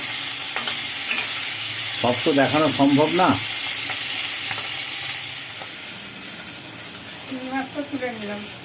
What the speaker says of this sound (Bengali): চিংড়ি মাছটা ভাজা হয়ে গেল চিংড়ি মাছটাকে তুলে নেওয়া হলো